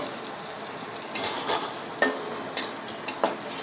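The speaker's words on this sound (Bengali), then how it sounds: "বন্ধুরা আমার পনির ভাজা হয়ে গেছে এটা আমি এখন নামিয়ে নেব" Paneer frying in a kadai while it is stirred, giving a steady sizzle with several scraping and clinking stirring strokes close by.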